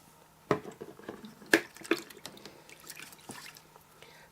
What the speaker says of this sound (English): Slosh that around.